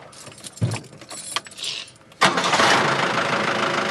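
A motorhome engine starts on a snowy winter day, preceded by jangling keys and clicks, then cranks and catches into a steady, loud idle running close by.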